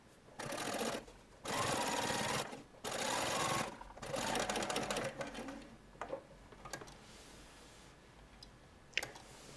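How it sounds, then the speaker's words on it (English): A domestic sewing machine top-stitches a rever collar on a shirtwaister dress, running in three loud bursts of steady whirring, then slower hesitant stitching with light clicks and pauses. "One more stitch required here."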